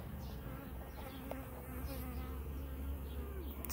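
Honey bees hum and buzz steadily inside a queenless hive where a virgin queen is being introduced, a dense, continuous drone close by with wavering pitch and no voices.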